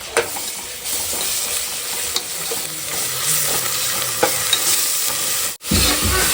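Onions sautéing with ginger and garlic in a pan for chicken biryani give a loud, steady sizzle with scraping stirs throughout and a brief gap near the end, with no voices.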